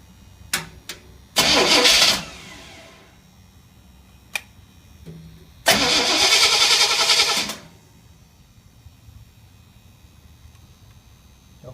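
Car engine cranked over without the ignition hooked up, two long bursts of starter whirring with short clicks around them, close and loud, never catching, with quiet gaps between.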